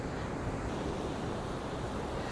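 Rough sea surf on the beach at Cala Sant Vicenç, Mallorca, a steady, dense wash of crashing waves heard continuously and fairly loud, with no talking.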